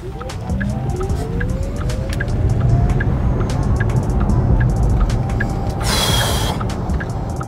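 A close, loud electric motor whines with a rising, sci-fi tone as a rear-wheel-drive Porsche Taycan accelerates, under steady road roar and a brief hiss near the end.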